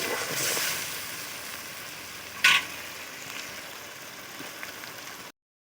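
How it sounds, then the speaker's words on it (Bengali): Chicken pieces fry dry in a pan with no water added, giving a steady close sizzle throughout with one brief louder crackle partway through. "আর একটু ভালো করে ভেজে নেব, তারপরে এতে মশলা অ্যাড করে দেব।"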